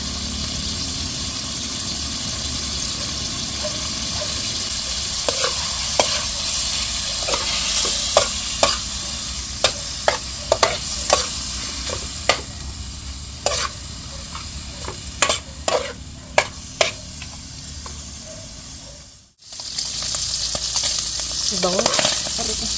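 Chicken pieces stir-fry in a pan with a constant sizzle, and a spatula scrapes and clacks against the pan in irregular, sharp hits.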